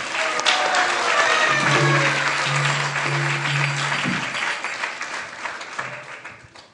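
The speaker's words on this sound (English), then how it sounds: "let's give them a round of applause" A crowd at a religious lecture claps steadily for several seconds, a dense wash of applause that slowly thins and fades toward the end.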